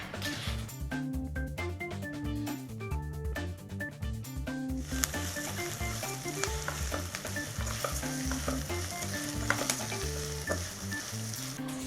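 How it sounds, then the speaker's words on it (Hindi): Rice toasting in a pan with onion, chilli and garlic for Mexican rice, heard as loud, dense frying and sizzling with constant spatula stirring and scraping that grows brighter and hissier partway through. "अब प्याज, मिर्ची और गार्लिक को थोड़ा पकने देते हैं।"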